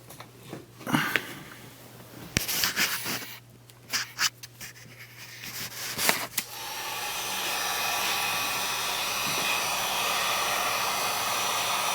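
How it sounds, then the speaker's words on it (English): Heat gun warming contact cement on a Triumph TR4A top frame: scattered handling clicks and rustles first, then the gun's steady airy roar settles in and runs continuously to the end. "the heat gun method is going to work to release this contact cement"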